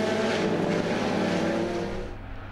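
A pack of Lotus Cup UK racing cars at Oulton Park rolling start, a loud, dense roar of engines passing close that fades slightly at the end, with no talk.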